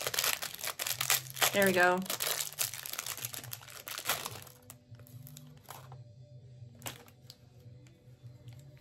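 Crinkling and tearing of plastic packaging as someone works it open, with a sharp rip partway through; a person speaks briefly.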